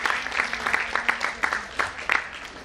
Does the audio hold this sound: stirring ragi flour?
no